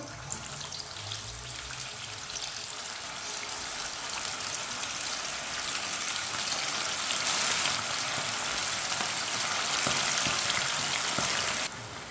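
Chicken pieces fry in hot oil for a Hyderabadi chicken biryani, a dense, continuous crackling sizzle that stays loud and even from start to finish, with no voices over it.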